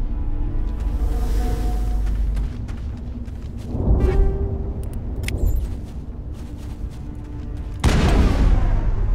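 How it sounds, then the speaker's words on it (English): Grenade blasts in the video game Mass Effect, two or three heavy booms bursting over a steady engine-like rumble, spaced a few seconds apart and loud in the mix. "Funny, I don't remember throwing grenades."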